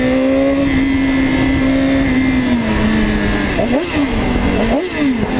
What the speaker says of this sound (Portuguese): Deu grau na minha moto.